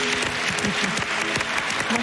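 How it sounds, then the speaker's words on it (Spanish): A studio audience on a Spanish television talk show breaks into brief, lively applause with dense, continuous clapping, fairly close and filling the whole moment. "Pues este aplauso para ti"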